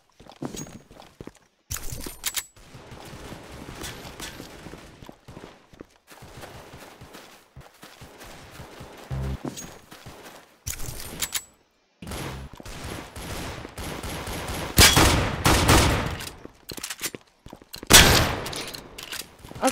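Pistol shots in the Roblox shooter Counter Blox, separate sharp cracks and short volleys broken by quiet gaps, with footsteps and game sounds between them.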